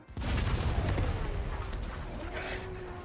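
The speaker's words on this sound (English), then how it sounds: "Explosion on deck! Set damage control!" A deep, rumbling blast erupts on a ship deck in the Star Wars animated series The Bad Batch, a booming explosion that rolls on with a lingering roar and debris noise.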